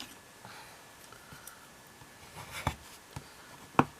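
Pen scratching across a stamped greeting card during papercrafting, in faint, sparse strokes with a few sharper taps and clicks near the end, heard alone with no talk.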